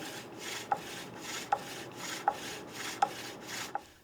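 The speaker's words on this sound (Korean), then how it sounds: "앞뒤로 당기면 송곳이 아래로 내려가면서 구멍을 뚫게 됩니다." A traditional bow drill bores a hole in wood, a soft rhythmic rasping rub with five sharp little clicks at regular strokes, close and quiet.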